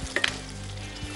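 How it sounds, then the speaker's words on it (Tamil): Capsicum and curry leaves sautéing in a pan, a brief steady sizzle with a couple of light utensil clicks near the start, low in level and free of talk. "நல்லா வதக்கிக்கோங்க"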